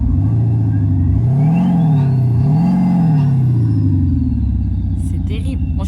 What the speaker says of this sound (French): on va accélérer un petit peu pour que vous entendez le bruit